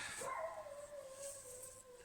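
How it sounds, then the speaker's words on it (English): A pack of sled dogs on a farm of about 250 dogs howls and whines at a distance, a steady wavering chorus of drawn-out tones with no one speaking. "We've got 250 sled dogs, so yeah, it's going to be noisy."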